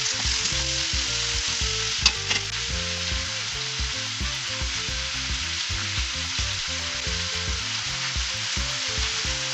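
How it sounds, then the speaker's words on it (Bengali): Vegetables for a Malabar spinach and fish head chorchori stirred as they fry in a pan, loud dense sizzling under continuous scraping and clattering, close up, no voices. "অল্প কিছুটা দিয়ে নাড়াচাড়া করে মিশিয়ে দেব"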